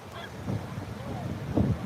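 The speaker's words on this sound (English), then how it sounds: "Look at these birds." Geese honk overhead in a loose series of calls, passing by outdoors on a beach in Fort Myers against steady wind noise, growing louder near the end.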